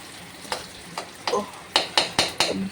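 Onions frying with cumin in a pan for a curd-cooked pointed gourd dish, heard as about six sharp spatula scrapes and stirs that grow louder over a faint sizzle.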